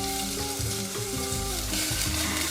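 Garlic and onion frying in a teaspoon of oil for a beef empanada filling, a steady close sizzle with light stirring scrapes throughout, no talking.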